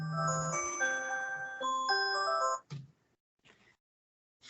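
A phone ringtone plays a bright melodic chime for under three seconds, then cuts off, leaving near silence with a few faint ticks and clicks.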